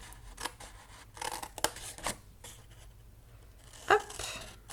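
Scissors snip through folded cardboard for a birdhouse lid, a handful of short crisp cuts spaced irregularly, close and fairly quiet with soft handling noise between.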